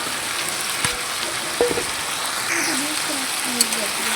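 Pointed gourd, potatoes and jackfruit seeds fry in a pan, giving a steady, close sizzle that holds throughout, with a few faint clinks and stirring scrapes on top.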